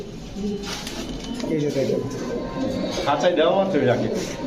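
Pigeons at a pigeon market coo softly in the background while people talk nearby, their low murmuring calls woven under the voices.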